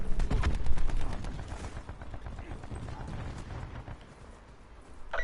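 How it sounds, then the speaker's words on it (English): Cluster grenade explosions in Black Ops 4 multiplayer, a rapid burst of overlapping booms and crackling blasts that fades into background game noise, with a voice speaking over it. "Throwing cluster grenade."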